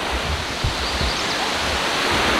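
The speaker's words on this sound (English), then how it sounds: "This sound is amazing. It's a little like river." A little river flows nearby, a constant broadband rush of water with faint low bumps of handling noise, steady and fairly loud throughout.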